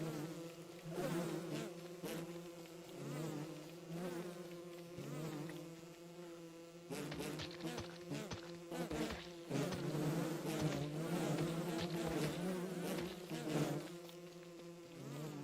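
A swarm of bees buzzes steadily in a video game, a dense droning hum that swells and thins but never stops over about fifteen seconds, with no talking.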